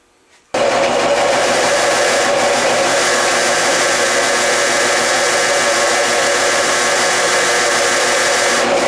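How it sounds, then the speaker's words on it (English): After a moment of quiet, a drill abruptly starts up and runs with a steady, loud whirring drone for several seconds, drilling a set screw hole on a 1958 Genco pinball machine. "And now we're ready to drill and tap the set screw."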